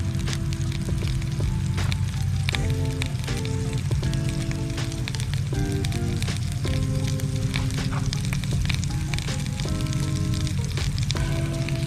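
Homemade ramp butter melts in a cast iron pan at a campsite, giving a loud, continuous crackling sizzle with bursts of popping throughout and no talk.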